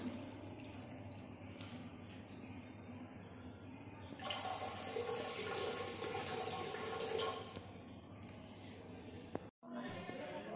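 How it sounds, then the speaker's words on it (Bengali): A tap runs as hands are washed under it, a steady close splashing that swells in the middle and fades, with a low hum and a sharp click before a brief dropout near the end. "আমি এখন এখানে হাতটা ধুয়ে নেব"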